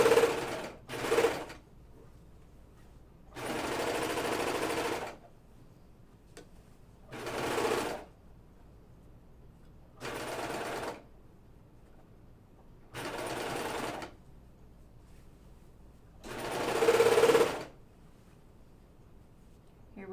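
Serger overlocking gathers on a Myosotis dress by Deer and Doe, sounding in repeated bursts of a few seconds each, a fast close whirring hum separated by brief quiet pauses.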